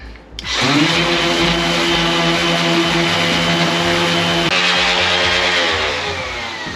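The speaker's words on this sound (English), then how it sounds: "I'm just going to tidy this up with the sander." A power sander smooths wood for a blanket ladder, starting with a click and settling into a loud steady whirring drone that holds for several seconds and tapers slightly at the end.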